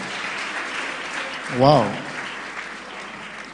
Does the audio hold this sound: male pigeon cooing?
no